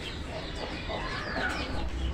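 A chicken clucks in short, soft bursts close by, over a low, rumbling background.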